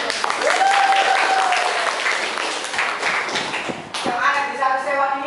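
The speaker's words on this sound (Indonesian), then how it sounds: "Tepuk tangan dulu." Students and staff clap at SMA Negeri 1 Sewon, a high school in Bantul, Yogyakarta. The applause is lively and close, with voices talking over it and a brief thud partway through.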